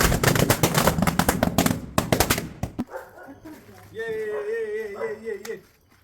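Firecrackers for a Vishu celebration burst in a rapid, dense crackling barrage at close range, ending in a sharp final pop, followed by a lone voice speaking.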